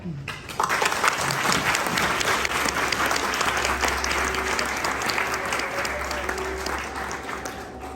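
A launch-event audience breaks into sustained applause to welcome a speaker, a loud, dense clatter of many hands that starts abruptly and holds steady, with faint voices underneath.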